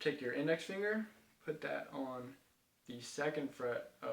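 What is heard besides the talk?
No everyday noises stand out.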